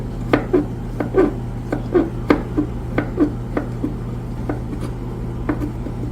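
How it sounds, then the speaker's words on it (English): A sharp kitchen knife chops vegetables on a board for a green goddess salad, giving a steady run of about a dozen crisp, close taps at an even rhythm over a low constant hum, with no talking. "The key about all this chopping up is to basically try your best and have like a sharp knife"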